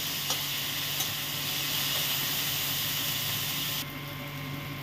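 Boiled chickpeas tipped into a hot kadai for aloo chhole masala, giving a steady, close frying sizzle and hiss that runs throughout and thins slightly near the end, with a couple of faint clinks.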